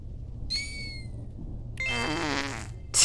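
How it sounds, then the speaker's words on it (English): In The Hex PC game, a fart sound effect plays as a loud buzzing, fluttering blast of roughly a second, preceded by a short high chime. "Flatulence."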